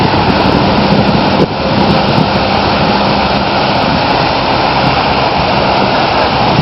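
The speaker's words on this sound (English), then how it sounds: "Right now the wind is taking the high spout of the fountain." Wind-blown fountain spray in an open park in Chicago, a steady broadband rush of falling water mixed with gusting wind noise on the microphone, loud and continuous throughout with no talking.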